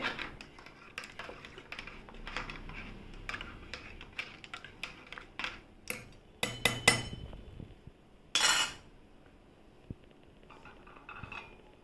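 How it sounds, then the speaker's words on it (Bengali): Ice cubes dropped into a thick coconut-water lassi clink sharply against the glass in a quick, irregular series of close, bright knocks, with a louder burst near the end. "সাথে বরফ দিয়ে"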